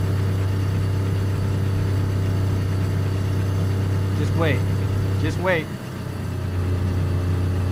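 A car engine idles steadily in the survival game DayZ, a constant low rumble throughout while someone talks briefly over it and a couple of short sliding squeaks cut in near the end.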